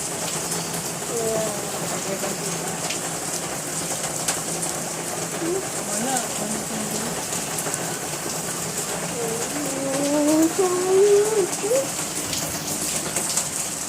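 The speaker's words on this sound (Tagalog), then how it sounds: "Tingnan nyo guys. Ito ulan ngayon." Steady rain patters continuously, with pigeons cooing softly now and then in the background.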